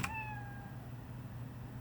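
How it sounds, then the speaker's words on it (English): A single synthesized cat meow plays once as a program's reset sound, a short clear mew at the start that fades quickly over a steady low hum. "it will make a sound meow and stop everything"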